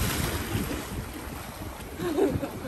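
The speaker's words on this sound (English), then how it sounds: "The waves is taking her." Ocean waves wash and rumble nearby, mixed with gusty wind buffeting the microphone.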